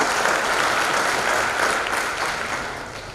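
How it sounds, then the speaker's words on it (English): An audience applauds at a Foundation Day celebration at NIPER SAS Nagar, with dense, continuous clapping from a crowd that tapers slightly near the end. "you really needed this applause"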